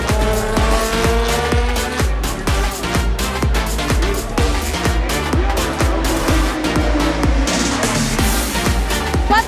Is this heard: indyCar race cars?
yes